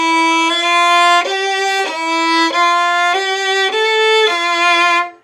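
A violin plays a smooth run of slurred, sustained notes, stepping between pitches without any break in the bow stroke, bright and close, alone for about five seconds before stopping.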